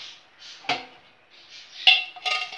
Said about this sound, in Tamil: ஒரு மூடியை போட்டுருவோம்.